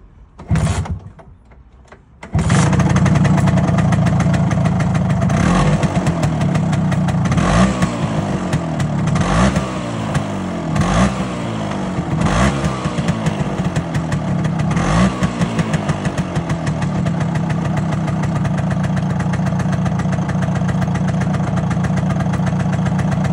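A Vespa T5 scooter engine turns over and catches after a short quiet pause, then settles into a loud, steady idle with a few brief throttle swells.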